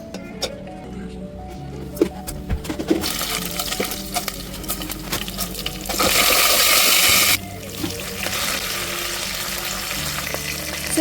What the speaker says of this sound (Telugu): కొంచెం పుల్లలుగా కావాలంటే కొన్ని చల్లనీళ్ళు కూడా దీని మీద ఇట్లా పోసుకోండి.